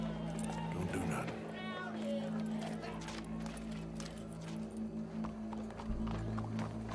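Horse hooves clip-clop in the Red Dead Redemption II video game, a steady, moderately close trotting rhythm running under continuous game music, ambience and voices talking.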